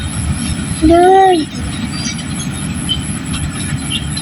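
A train slowing to a stop, a loud rumbling roll of wheels on rails with a rising, wavering brake squeal near the start, continuing as a steady near rumble afterwards.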